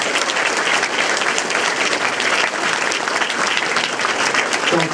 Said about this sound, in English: how about another big round of applause for our mayoral candidates?